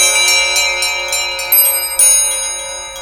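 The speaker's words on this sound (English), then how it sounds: "soon it rang out loudly, and so did every bell in the house" Bright house bells ring loudly with sustained overlapping tones, struck repeatedly in an irregular clatter, filling the space with a ringing shimmer, in a stage production of A Christmas Carol.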